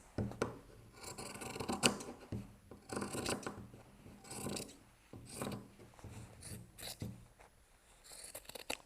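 Scissors cut through quilt fabric and batting, trimming a lap quilt to size: a series of crisp snipping and rasping strokes in bursts with short pauses between, close and fairly loud.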